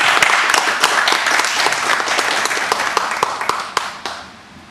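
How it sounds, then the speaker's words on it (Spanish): Audience applause at a history lecture event in Tampico, a dense burst of many hands clapping that fills the room, then gradually thins and fades out toward the end. "les pido un aplauso para nuestros amigos"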